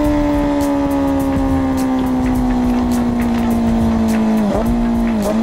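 A Yamaha RZ250-type two-stroke motorcycle engine holds a loud, steady high-pitched drone close by, sliding slowly downward in pitch before a brief dip and recovery near the end; no voices.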